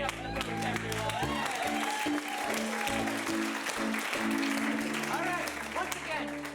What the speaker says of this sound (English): Give it up once again for Anthony up in the booth, everyone.